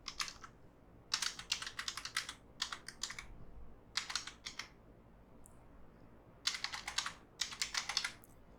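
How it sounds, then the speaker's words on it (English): Password typed on a computer keyboard in bursts of quick, light key clicks separated by short pauses, quiet and close with no talking. "I will add my password here."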